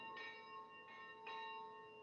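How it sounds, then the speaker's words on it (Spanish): Church bells ring faintly in the distance, with three evenly spaced strikes whose sustained tones linger over a quiet indoor background. "No sé si se logran escuchar las campanas de la iglesia"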